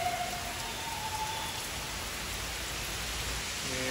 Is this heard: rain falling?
yes